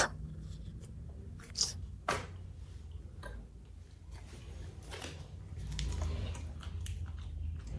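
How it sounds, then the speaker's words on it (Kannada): Someone eating onion pizza close to the microphone, with soft intermittent chewing and small sharp clicks and squishy bites spread across a quiet room background, no talking. "ಇವತ್ತು ಪಿಜ್ಜಾ ತಿನ್ನೋಣ. Onion pizza."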